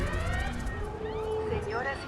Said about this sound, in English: So maybe we should call the sirens now.